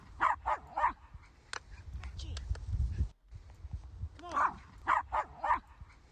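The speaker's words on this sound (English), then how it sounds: "the other dog Archie's barking at is Benji" A dog barks at another dog, sharp barks in short clusters of two or three with a pause between, close and loud over a soft rustling background, with some faint voice activity.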